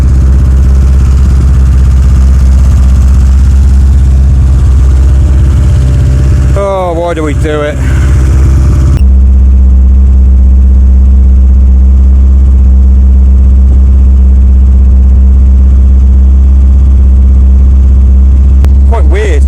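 A car engine idles steadily while warming up with the thermostat still closed and coolant bypassing the radiator, a constant low rumble running throughout; someone talks briefly partway through and a short clatter of handling noise interrupts.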